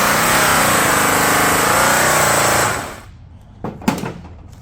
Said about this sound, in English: So I'm going to rake it again, really rolling it to get my edges until I get it completely raked.